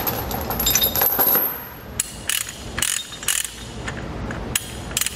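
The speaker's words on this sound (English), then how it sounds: "So what I need to do is get this ratcheted out." A Titan ratchet-type chain load binder for 1/2-inch chain is cranked by hand, giving loud, close metallic ratcheting clicks in irregular bursts with pauses between strokes and no talking.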